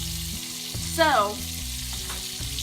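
Deer tenderloin sizzles steadily in a cast iron skillet, a constant close frying hiss with a brief whistling tone partway through and a short spoken word.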